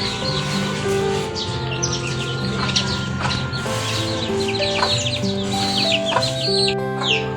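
Chickens cluck in short bursts close by, with birds chirping around them and a steady background hum of outdoor ambience.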